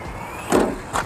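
A small RC toy truck races along, its motor whirring steadily with two brief louder surges as it speeds and turns, close to the listener.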